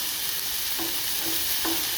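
Chicken sizzles steadily and loudly on a hot Blackstone flat-top griddle, with a few faint scraping touches from a utensil.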